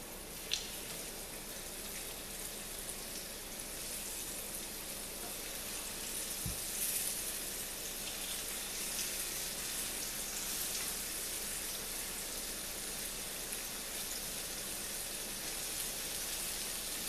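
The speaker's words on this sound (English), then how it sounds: "So now my grease is hot. I'll go ahead and put these in." Pork chops fry in hot grease for Southern fried pork chops, a steady, fairly quiet sizzling hiss that swells slightly partway through, with a couple of small pops and clicks.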